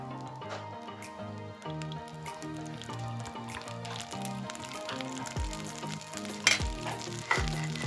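Ghee sizzles with rice in a pan for basanti polao, giving a soft, steady frying crackle close by, along with stirring scrapes and a few clinks.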